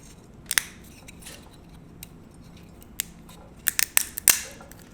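Carbon filament support material printed on a QIDI X-CF Pro is snapped off a part by hand, giving sharp, close plastic cracks: isolated snaps first, then a quick cluster of crisp breaks near the end.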